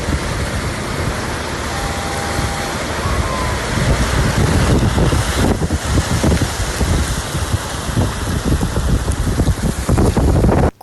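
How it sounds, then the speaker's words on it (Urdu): Heavy storm rain pours down in Kuwait, a loud, dense, continuous roar of water with splashing, close and unbroken for the whole stretch. "کویت میں بھی حالیہ شدید بارشوں کے باعث سڑکیں مکمل طور پر پانی میں ڈوب گئیں"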